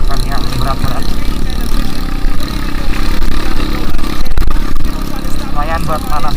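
A motorcycle engine runs steadily while warming up on a rural riding trail near Pondok Halimun, a constant mid-pitched drone under someone talking.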